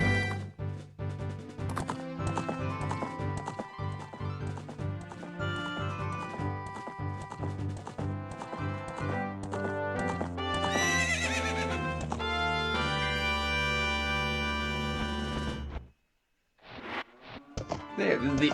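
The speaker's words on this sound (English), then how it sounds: "now we can actually play Epona all around Hyrule Field" Horse hooves clip-clopping and whinnies from Epona in Ocarina of Time on Hyrule Field, played under dense, loud game music that cuts out briefly near the end before resuming.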